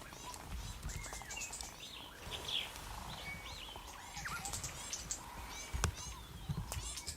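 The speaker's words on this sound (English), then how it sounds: "What kind of bird is that? Making that See- noise." A high, thin see-like call from an African bird during a mating or dominance display, heard among repeated chirps and tweets in a busy outdoor wildlife chorus, with faint low rumble underneath.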